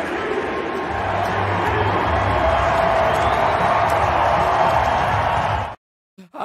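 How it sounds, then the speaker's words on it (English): A sold-out arena crowd at an Avalanche game roars and chants MVP for Nikola Jokic, a loud, dense, sustained wall of voices lasting several seconds before cutting off abruptly. "her dad being chanted MVP by a sold-out crowd"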